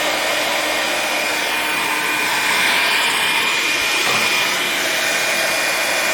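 A heat gun blows a loud, steady hot-air roar while a wooden flight bow limb is heated and bent onto a former, the whooshing hiss continuous and close throughout with no voices.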